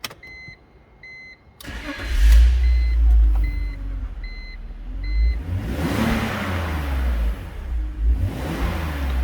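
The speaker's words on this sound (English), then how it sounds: "this is a startup video of the BMW 325i convertible" A 2002 BMW 325Ci convertible: dashboard warning chimes beep in a steady pattern, then the engine cranks and catches with a loud surge before settling into a low, steady idle with slight rises.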